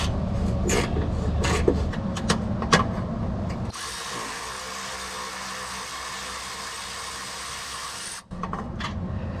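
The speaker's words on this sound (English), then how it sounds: "So I got a little box wrench on there so it holds it." A box wrench ratcheting on a 14 millimeter exhaust bolt under a Nissan 350Z during a Y-pipe exhaust install, with rapid metallic clicks and rubbing followed by a steadier grinding hiss; close and fairly loud.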